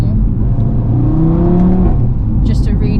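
An Audi TTRS with the DAZA tune and a manual gearbox, its engine revving loudly and pulling up through the rev range, heard close from inside the car over road noise with a voice briefly present.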